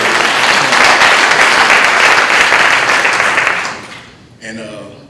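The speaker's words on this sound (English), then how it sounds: "thanks for the applause" An audience at a talk on Black liberation and anti-racism applauds loudly and steadily for about four seconds before the clapping fades out and a voice begins speaking.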